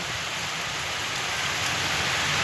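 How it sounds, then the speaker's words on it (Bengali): Heavy rain pours steadily onto a rooftop garden during a storm, a dense, even hiss of drops on leaves and surfaces close by with no talking. "এটা হচ্ছে বৃষ্টির মধ্যে আমাদের ছাদ বাগান।"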